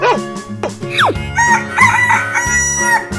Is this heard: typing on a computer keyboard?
no